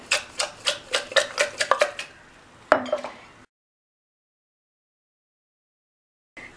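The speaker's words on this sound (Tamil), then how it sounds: "சேர்த்துட்டு நல்லா குலுக்கி விட்டுறலாம்." A jar of lemon pickle with salt and squeezed lemon juice is shaken, giving a quick run of rhythmic rattling clinks and a final knock before silence, with a faint sound returning at the very end.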